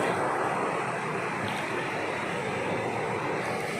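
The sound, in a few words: sea waves at the shore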